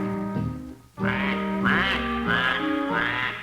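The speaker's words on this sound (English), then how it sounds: "D is for the duck who always goes quack, quack, quack, quack." A duck quacks again and again in a steady series of loud, close, nasal calls, clear and alone with no talking over them.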